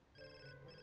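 A phone rings in The Sims 4, a short burst of steady electronic ringtone tones, clear and close with no talk over it.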